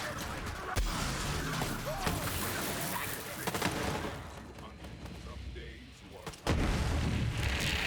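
Sandhawk gun fire in Borderlands 3, heavy booming bursts and crashing impacts over a busy game soundscape, with a brief lull before a loud burst near the end.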